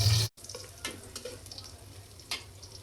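Dal paste with radish is stirred and fried in a pan, with a soft, steady sizzle and intermittent scraping strokes of a spoon, close and moderately quiet after a brief louder burst at the start.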